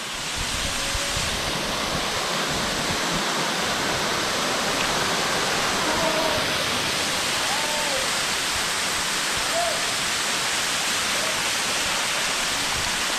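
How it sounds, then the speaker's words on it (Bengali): A mountain waterfall swollen in the rainy season roars as a steady, dense rush of falling water. It is continuous and moderately loud, with faint birdsong above it and no talking. "এনজয় করতে থাকুন ঝর্ণাটা।"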